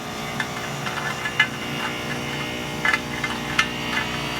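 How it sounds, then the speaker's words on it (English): A thread-milling cutter moving in a helical path to cut threads inside a hole in a metal part for an elevator belt tensioner gives a steady machine hum, with faint ticks and light scraping bursts. "cutter is moving around in a helical pattern making threads"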